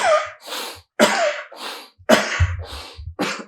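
A person demonstrating a first aid procedure gives sharp, forceful coughs, each followed by a deep breath, in a rapid, close, repeating pattern of about three cycles.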